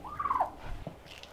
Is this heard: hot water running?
no